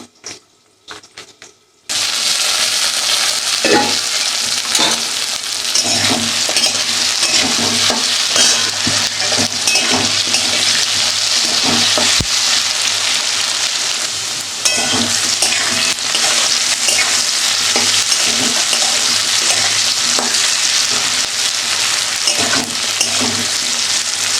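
Potatoes frying in oil in a pan, a loud continuous sizzle and crackle that starts abruptly after a brief quiet moment and holds steady throughout, with occasional stirring scrapes.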